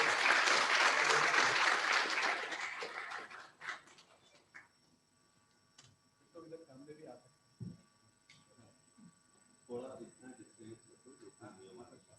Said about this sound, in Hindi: तालियां बजा सकते हैं आप लोग भाई